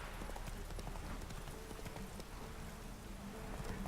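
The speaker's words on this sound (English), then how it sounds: "This is what happens when you decide to ride into town at 5 p.m. when it's raining and storming" Horse hooves clip-clop steadily while riding into town through rain and a storm in the Witcher 3 video game, the rhythmic hoofbeats mixed with a constant wash of rainfall.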